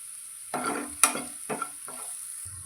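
Onion sautéing in a pan with salt and kasuri methi, several short bursts of sizzle and stirring scrapes over under three seconds, close and distinct against a quiet background, with no talking.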